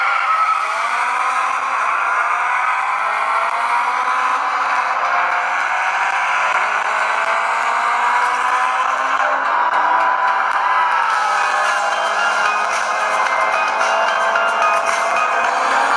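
A racing video game on a Nokia Lumia 830 phone: a car engine whines continuously as tires skid and screech at length, loud and close, with no talking.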